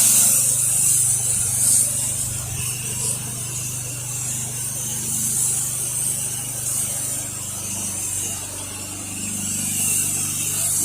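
A steady, loud spray hisses continuously as a 1% cleaning mix is applied to a non-concrete patio, with a faint mechanical hum underneath and no talking.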